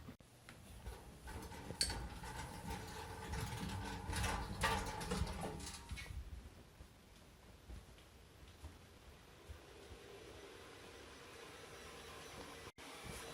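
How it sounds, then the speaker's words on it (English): A 3D printer runs with a steady mechanical whir with faint ticking and stepping clicks, busier at first, then settling into a quieter, even hum. "I know that the 3D printer is kind of loud"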